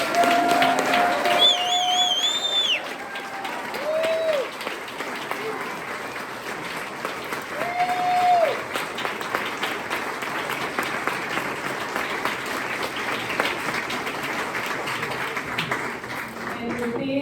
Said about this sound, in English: I just want to close with another round of applause for our amazing staff.